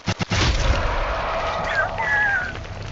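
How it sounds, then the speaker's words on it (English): Video game grenade explosions, a few quick booms at the start followed by a sustained rumbling roar, loud and close, with no speech over it. "I threw 5 grenades!"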